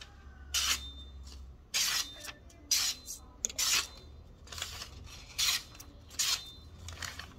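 A handmade knife's edge is tested by cutting, giving a series of short, sharp rasping slices in quick bursts separated by brief pauses, close and fairly quiet.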